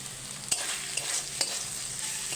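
Pointed gourd (potol) fries in a pan with a constant bright sizzle, while a spatula stirs with a couple of distinct scrapes and knocks over a short stretch.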